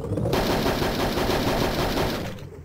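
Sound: weapons firing in Hogs of War video game

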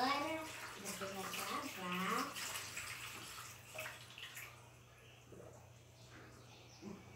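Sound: water running while a child washes hands

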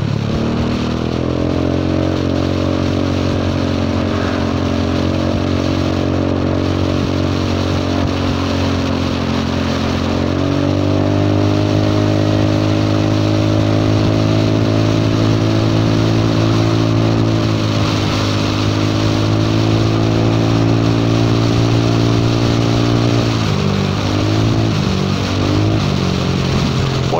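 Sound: Yamaha Forza 300 scooter revving with cracked exhaust pipe

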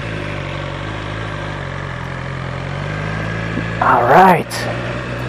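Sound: BMW S1000 XR motorcycle engine idling

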